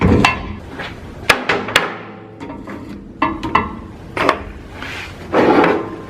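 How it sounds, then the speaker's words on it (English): A hammer drives a press-fit bearing into a 1968 Chevy Malibu engine, striking metal in sharp, uneven blows, several quick knocks spaced across the clip, close and loud, with no talking. "we take our hammer and we simply just drive that bearing in"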